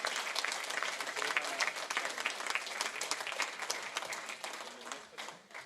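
Congregation applause at an evangelical church service, steady dense clapping from many hands filling the room for several seconds, fading slightly toward the end.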